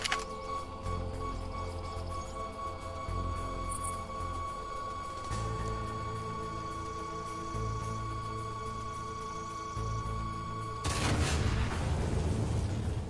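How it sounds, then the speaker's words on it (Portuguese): A C4 explosive, replacing the pipe bomb in a Left 4 Dead 2 weapons mod with boosted damage, goes off with a loud broadband blast near the end, after a steady hum of in-game noise and music. "ouviu aí o estrondo ou estrago que faz esse C4?"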